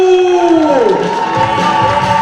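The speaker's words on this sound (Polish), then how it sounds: "Wielkie brawa za Wiszaszku!" A crowd at a Polish futnet (footvolley) championship applauds and cheers the defending women's champions, a loud, dense roar with shouts after a sliding tonal sound fades at the start.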